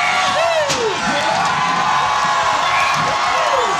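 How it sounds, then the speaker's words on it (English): Crowd at a bike stunt show cheering, whooping and shouting loudly and continuously after a rider's high jump, a dense near roar of voices with sharp whoops rising over it. "Oh, give him a massive round!"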